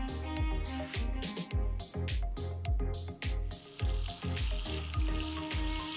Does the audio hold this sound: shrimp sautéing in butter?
yes